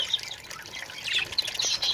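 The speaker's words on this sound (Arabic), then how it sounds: "هكا تيكونو الطيور ديالنا تبردو مع راسهم ناشطين" Budgies in summer chirping and splashing while bathing in water: high, thin chirps and twittering calls over a soft wash of water noise, fairly close and continuous, with no talking.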